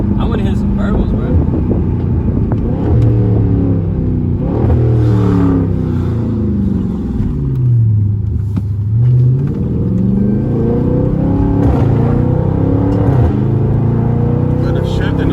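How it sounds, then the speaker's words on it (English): Chrysler 300 SRT V8 engine revving with a deep, steady rumble, pitch rising and falling through throttle blips and gear shifts, loud and close inside the car with wind noise and occasional talk over it. "I want to hit some burbles"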